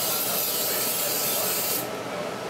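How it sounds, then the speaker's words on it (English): A close, steady hiss of cooking spray lasting about two seconds, then cutting off into quiet room tone. "we're gonna spray the insides of these really good"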